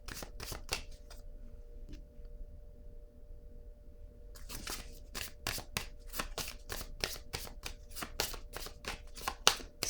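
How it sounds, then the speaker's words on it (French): Playing cards are shuffled in quick riffling bursts, a pause, then a long run of crisp, evenly spaced snaps as cards are shuffled and drawn during a French-language tarot-style reading, close and clear with no talk. "Je vais piger une carte ici."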